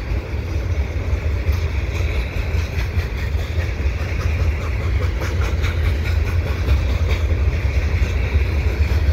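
A CN freight train with CSX locomotives rumbles westbound past close by at Dorval, a continuous low roar with rhythmic clacking of wheels over rail joints.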